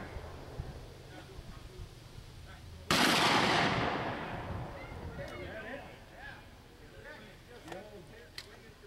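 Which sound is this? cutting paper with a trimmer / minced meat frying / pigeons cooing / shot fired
shot fired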